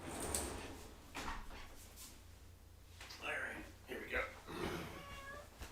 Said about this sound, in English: Cat cameo.